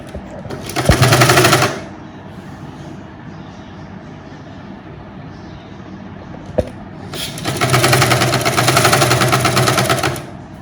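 A sewing machine stitching a lining top whirs in two loud, rapid bursts, one about a second long and a later one about three seconds long, with quiet handling between them.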